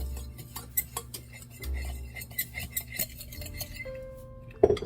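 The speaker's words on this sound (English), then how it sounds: "And you can just mix that with a fork." A fork stirs cinnamon and salt together in a bowl for candied pecans, giving quiet, irregular clinks and scrapes of metal against the bowl with small taps scattered throughout.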